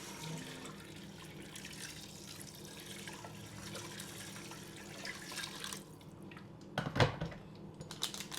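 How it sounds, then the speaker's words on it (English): Water pours and trickles into a pot of washed rice in a home kitchen, a soft, steady splashing that runs for several seconds before a louder clatter of the pot near the end. "And then we're adding some water."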